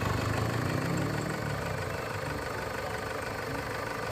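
A 2003 Toyota Sport Cruiser 4x4 with a 2.5 D4D diesel engine idles steadily, a dense, even low clatter and hum running close and continuous throughout.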